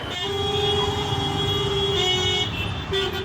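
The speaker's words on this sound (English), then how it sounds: "People are honking the whole time, but not in a bad way, not in an angry way." Street traffic in India carries a sustained car horn toot that holds for about two seconds, then a short second blast, over the rumble of passing motor vehicles.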